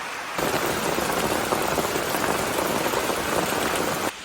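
Dense, steady hiss of heavy rain pouring down, loud and unbroken for several seconds, with no voices.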